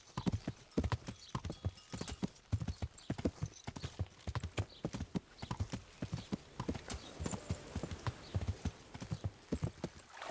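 Steady clip-clop of horse hooves at a brisk trot on a hard road in the video game Kingdom Come: Deliverance, continuous and fairly close throughout.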